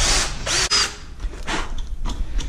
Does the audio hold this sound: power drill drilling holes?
yes